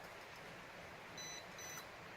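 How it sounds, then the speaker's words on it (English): Holy Stone HS790 drone emitting a short electronic beep during compass calibration: two brief high tones near the middle, faint over steady background hiss. "once you hear a beep, the next rotation is going to be like this"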